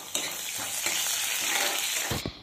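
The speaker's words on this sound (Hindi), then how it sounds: "यहाँ पे मैं दाल को तड़का दे रही हूँ, तेल छिटकी हरे।" Dal being tempered in hot oil in a home kitchen, a steady loud sizzle and spatter running throughout with a few stirring scrapes, ending abruptly.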